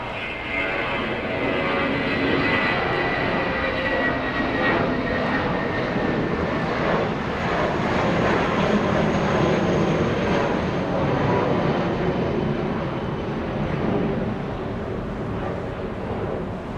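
A JetBlue airliner at Los Angeles International Airport gives off a sustained, loud engine roar that swells and holds, heard from fairly near with a broad rushing rumble and no talk.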